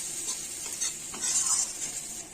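Piyali fish coated in spices fries slowly in a pan, a continuous close sizzle with occasional stirring scrapes and soft utensil clinks, no voices.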